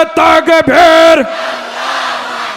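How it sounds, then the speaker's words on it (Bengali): At a Rajshahi religious gathering near the Indian border, a loud crowd roars the takbir chant in several strong, sustained unison shouts, the last one fading into a lingering echo and crowd murmur. "এই আল্লাহ আকবর ধ্বনি ইন্ডিয়াতে পাঠাইতে চাই নর তাকবীর"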